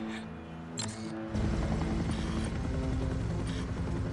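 A cartoon helicopter in the animated spy series Totally Spies: a steady droning rotor and engine whir that grows louder and fuller after about a second and keeps going with no talk over it.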